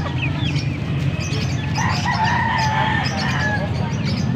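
Chickens clucking and a rooster crowing at a poultry market in Angeles, Pampanga, with layered bird calls over a steady crowd murmur, fairly close and continuous.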